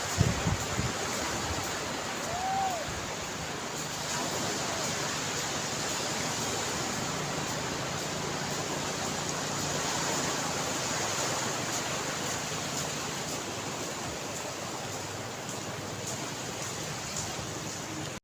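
Surf rolls in steadily at high tide on Cox's Bazar beach, a continuous broadband wash of breaking waves with some wind noise, unbroken for the whole stretch and with no voices.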